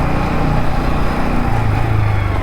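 A motorcycle engine with a slightly loosened clutch idles loudly and unevenly up close, a continuous low rumbling chug that shifts pitch as it struggles toward cutting out, with no talk.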